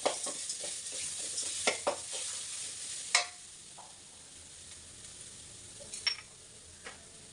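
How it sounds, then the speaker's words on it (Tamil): Grated coconut sautéing in a pan on a medium flame, a soft steady sizzle with scattered scraping stirs and light clicks of the spatula, close and fairly quiet. "ஸ்டவ்வை மட்டும் மீடியம் ஃப்ளேமில் வச்சுக்கோங்க கையில் வைக்காமல் மீடியம் ஃப்ளேமில் வச்சுட்டு அப்படியே நல்லா வதக்கணும்"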